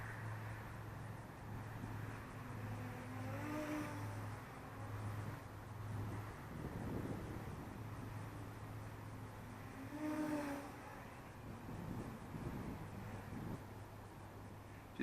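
An RC airplane, a Bugs 6 flown by line of sight, makes a pass into a headwind, its motor drone rising and fading twice through the flight, faint and distant over steady outdoor background noise.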